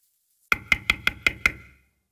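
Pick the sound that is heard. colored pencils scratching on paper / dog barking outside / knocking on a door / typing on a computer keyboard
knocking on a door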